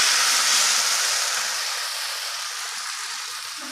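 Drumstick leaf rice adai roasts on a hot pan with a soft, continuous sizzling hiss that fades slowly, heard alone.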